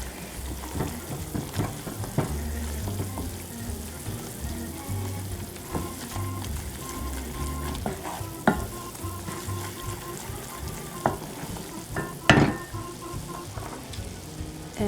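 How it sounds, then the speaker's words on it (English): Flour being stirred into a pot of Norwegian fish soup, with steady scraping and stirring strokes over a low simmering bubble, close and moderately loud, with occasional sharper clinks of the spoon against the pot. "I will keep stirring it."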